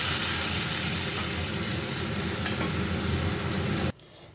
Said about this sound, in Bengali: পেঁয়াজটা লাল লাল করে ভাজা হয়ে গেলে পোস্তটা দিয়ে দেবো